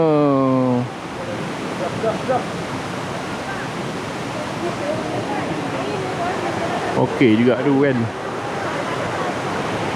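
Waterfall near a campsite at Fraser Hill, a steady rushing roar of falling water throughout, with people talking briefly at the start and near the end.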